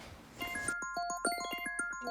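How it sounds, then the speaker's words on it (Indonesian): A phone rings with a bright electronic ringtone of repeated short melodic tones, loud and close, following a moment of background noise. "Telepon."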